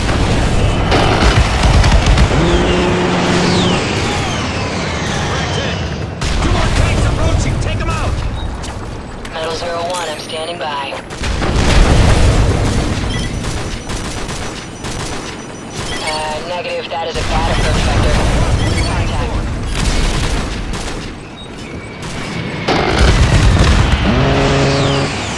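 Heavy explosions and gunfire boom in a loud Call of Duty: Modern Warfare 3 battle as an air strike hits a tank on a street, with dense, continuous combat noise and radio voices talking over the din.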